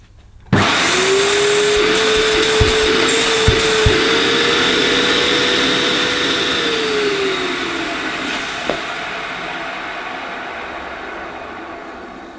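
A Hoover U2090 Turbopower 2 upright vacuum cleaner switches on abruptly and runs with a loud steady roar and a motor whine that rises, holds, then sags, with a few knocks as it is moved.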